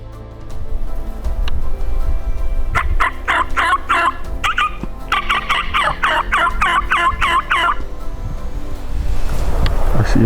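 A wild turkey gobbles during a turkey hunt, rapid rattling bursts repeating in a long series, fairly close and loud against wind and outdoor rustle.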